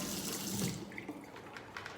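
A sink tap runs water into a container while cold brew coffee is being made, a steady near splashing rush that thins out after the first second or so, with no talk.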